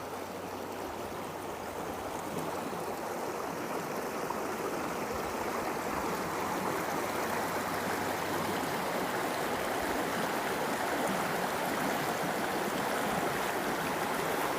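A woodland river and brook flowing steadily, a dense, continuous rushing of water with no voices, holding an even level from start to finish.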